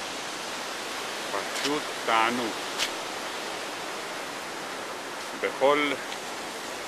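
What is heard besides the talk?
flowing mountain stream water in the Dolomites, light rain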